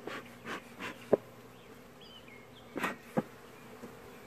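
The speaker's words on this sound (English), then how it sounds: "I got one bee that just will not leave me alone." A honeybee buzzes close to a beekeeper, faint and wavering, with a few soft thumps and short rustles. No voices.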